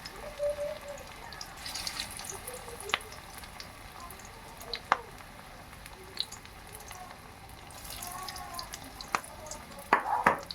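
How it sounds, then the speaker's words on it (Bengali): Potato pakoras fry in oil with a soft, low crackle and sizzle, dotted with sharper pops and a few clinks of a utensil. "বাড়িতে লোকজন এলে এভাবে ভেজে খাওয়াতে পারেন পকোড়া।"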